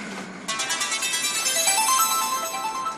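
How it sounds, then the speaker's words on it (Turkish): A telephone ringtone plays loudly and steadily for about three seconds, a repeating electronic melody starting abruptly after a brief quiet moment, with no talk over it. "Telefon telefon. Telefon."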